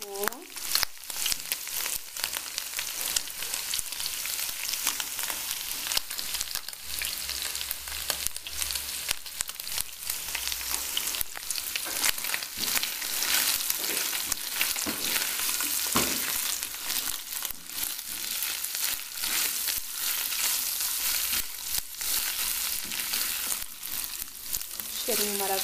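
Onion fries in a pan, a loud continuous sizzle and crackle with brief stirring sounds, holding steady throughout.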